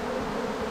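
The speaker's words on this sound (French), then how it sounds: "les abeilles rentrent dans la ruchette" A honeybee swarm drones at a small hive box, a continuous, even buzzing that stays steady and fairly close, with no voices over it.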